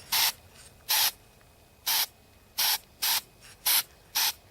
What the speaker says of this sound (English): just very lightly spray.